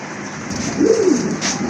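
A fancy pigeon gives a single soft, rising-and-falling coo close by, set against a low background hum and a few light rustles.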